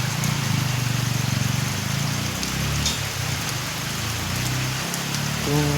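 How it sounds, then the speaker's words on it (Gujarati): Steady rain falls along a road out of a village in India, heard as a continuous, even hiss of drops on surfaces that stays moderately loud throughout, with no voices. "વરસાદ ધીમે ધીમે ચાલુ થઈ ગયો છે."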